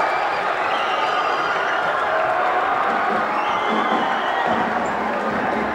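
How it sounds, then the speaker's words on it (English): A high school boys' varsity basketball crowd erupts in cheers, whoops and clapping after a 59-53 win over a rival, a dense, loud sustained roar of voices filling the gym as fans storm the court. "The crowd goes wild and storms the court."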